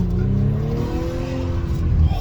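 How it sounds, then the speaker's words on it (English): A B9 Audi S5 with a high-flow cat runs on the road with a steady, loud exhaust drone. Its engine note sweeps down under load, though no distinct pops stand out. "I'm gonna downshift it. And the pops are actually much louder."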